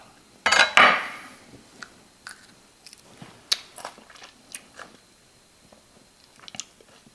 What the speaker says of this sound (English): I'm gonna taste this piece of pepper and see if it tastes hot